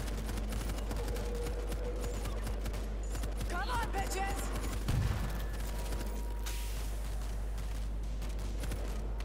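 Gunfire from the zombie shooter game World War Z, a steady dense wash of shots with a louder burst midway, running continuously at moderate level.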